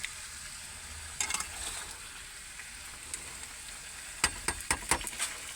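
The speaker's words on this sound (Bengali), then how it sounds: "আলুটা আর কুমড়োটাকে ভালো করে ভাজবো" Potato and pumpkin pieces fry in oil in a pan with a low, continuous sizzle, broken by a few sharp spatula clicks and scrapes, most clustered near the end.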